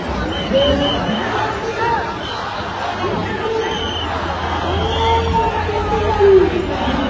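A large crowd gathers in the street for the Chinchpokli Chintamani Ganpati arrival procession, forming a dense, continuous babble of many voices with occasional shouts and whistles nearby.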